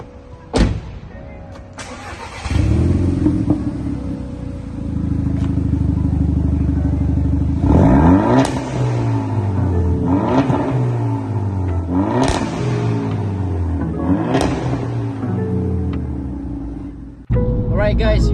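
A Volkswagen Scirocco 1.4 TSI starts with a click and crank, then the engine idles and revs repeatedly in rising and falling sweeps, loud and close, before cutting off near the end.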